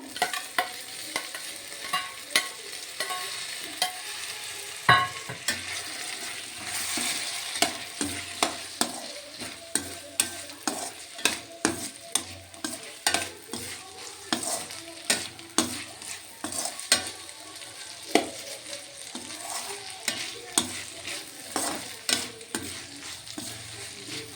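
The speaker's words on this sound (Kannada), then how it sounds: "ಕ್ಯಾಪ್ಸಿಕಮ್ನು ಮುಂಚೆನೇ ಹಾಕ್ಕೊಂಡು ಬಾಡಿಸ್ಕೊತಾ ಇದ್ದೀನಿ ನಾನು" Capsicum sautéing in a pan for avarekalu capsicum chitranna, a steady close sizzle punctuated by frequent sharp spatula taps and scrapes, no speech.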